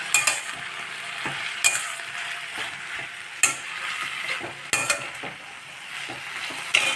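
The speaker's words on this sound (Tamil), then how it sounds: "இதை அது நல்லா வதக்கணும்" Balloon vine (mudakathan) leaves and their small stems sauté in a pan, giving a steady close sizzle of frying with repeated sharp stirring scrapes and clatters throughout.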